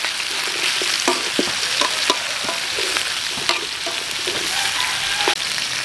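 Potatoes and carrots are poured into a pan with browned oxtail for curry, setting off a steady sizzle with scattered clinks and stirring knocks, close and without voices.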